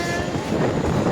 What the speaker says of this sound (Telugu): ఈ కనిపించే ఈ రైలు ఈ సొరంగ మార్గంలో నుంచి వెళ్తుంది ఇప్పుడు.